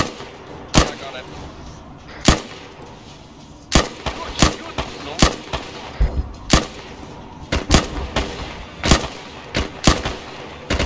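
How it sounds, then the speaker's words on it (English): Repeated sharp gunshots ring out in a Metal Gear video game as the player fires at an enemy pilot, about a dozen loud cracks spaced irregularly over steady background noise, with voices talking under the firing. "I'm shooting the pilot"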